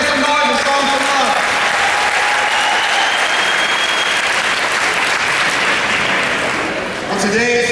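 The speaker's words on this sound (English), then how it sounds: "I got to applaud it. Let's make some noise and show them some love." Audience applause fills a live event at a drug-prevention talk, a steady loud wash of clapping with some cheering that holds for several seconds, then briefly dips before rising again.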